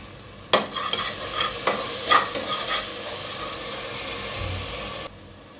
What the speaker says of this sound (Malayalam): ഇതെല്ലാം ചേർത്ത് ഹൈ ഫ്ലെയിമിൽ നമുക്ക് സോട്ട് ചെയ്തെടുക്കാം.